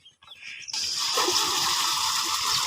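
Water gushes in a steady, loud stream from an electric pump motor running slowly on low, dim power, starting abruptly after a brief quiet moment and continuing unbroken.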